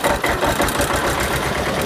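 A tractor engine runs with a steady, loud, close rumble as a tractor race gets underway, holding an even throb with no clear rise in pitch.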